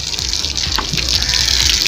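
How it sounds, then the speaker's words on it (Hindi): Water is poured and splashed over a buffalo in a village setting, a steady loud gushing rush like running from a tap, constant and close for the whole stretch, with no talking. "गायें नहलाई नहीं जाती, ये गंदी हो गई हैं इसलिए मैं नहला रहा हूँ।"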